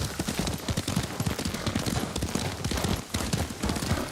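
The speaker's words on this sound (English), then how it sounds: "Lord Sakai taught me to ride a horse." Horse hooves clip-clop in a steady, galloping rhythm during a ride in the video game Ghost of Tsushima, loud and continuous with dense low thuds, no talk over them.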